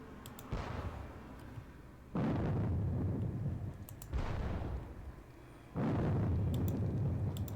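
Artillery guns fire in a Battle of Bautzen war game, four separate heavy booms spaced a second or two apart, each with a deep rumbling tail, moderately loud with no talking.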